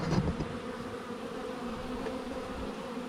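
Honeybees buzz around a hive in a bee yard as they crowd onto the back of the box looking for a way in, making a steady, soft, continuous drone throughout.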